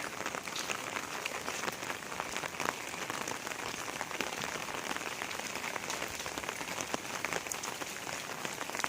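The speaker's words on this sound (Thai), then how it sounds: "นี่นะคะคือฝนตกก็มีแต่น้ำนะคะ" Steady rain pours down at a temple, a dense, even hiss of drops striking surfaces with scattered sharper spatters, close and continuous throughout with no voices.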